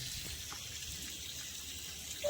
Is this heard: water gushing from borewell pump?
yes